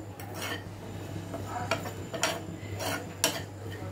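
Poppy seeds, sesame seeds, cashews and coconut powder dry-roasting in a hot pan, heard as quiet scraping stirs and a few light metallic clinks of a spoon against the pan, with no talk.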